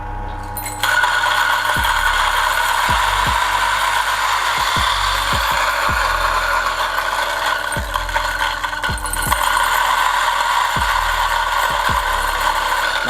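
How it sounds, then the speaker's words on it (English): A DF64 Gen 2 coffee grinder, already running, grinds beans trickled in slowly, giving a steady loud whirring drone. Irregular low knocks and crunches break through as the beans catch. "the grinder is already running, and I slowly trickle the beans in"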